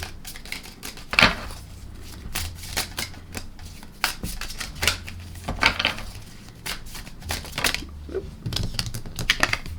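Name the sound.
shuffling and drawing a tarot card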